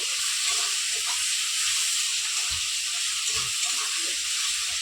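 Katla fish fries in hot oil with ginger, garlic and onion paste, a loud, steady, close sizzle and hiss that continues without a break.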